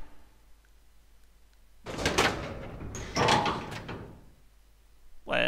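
A heavy door in Resident Evil Zero opens with a creaking, scraping movement after a quiet pause, then a second clattering push, and ends with a sharp thud.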